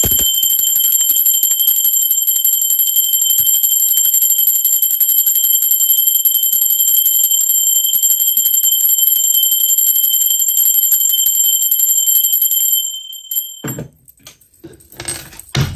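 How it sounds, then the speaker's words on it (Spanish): A bell rung for an oracle card reading holds a bright, high, shimmering tone that sustains evenly for about thirteen seconds, then stops and gives way to faint rustling. "va campana."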